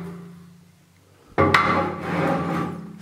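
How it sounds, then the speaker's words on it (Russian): A spirit level is picked up and flipped over onto a surface, landing with one sharp knock followed by scraping and rubbing as it settles, up close after a low hum. "Берем уровень,"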